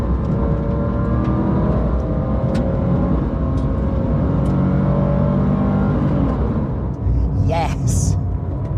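A Porsche 996 GT3 with its Metzger flat-six pulls hard and revs up steadily under load, a dense engine roar held at a constant close level throughout, with a brief higher whine rising near the end.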